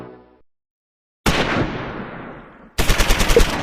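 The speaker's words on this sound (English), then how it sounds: "Strong's medium machine gun in 2nd Platoon keeps up fire on the Flammenwerfer." Medium machine gun fire in the WWII tactics game Close Combat 4, Battle of the Bulge: a sharp crack with a decaying tail, a short silence, then a loud rapid burst of repeated shots, close and with no voices.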